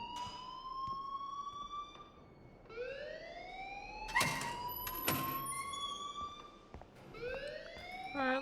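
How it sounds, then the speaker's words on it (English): An alarm rings in the video game Life Is Strange, sounding as sweeping, rising siren tones that repeat across the stretch. Sharper bursts cut in mid-way, and the alarm stays loud and steady with no talk over it. "please turn off that alarm since that's your job"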